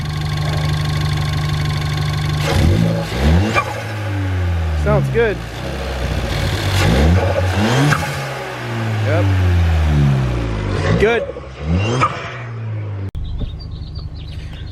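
A Ford Fiesta ST engine revs up and down repeatedly nearby, with a loud whooshing Turbosmart blow-off valve release between revs, while people talk briefly over it.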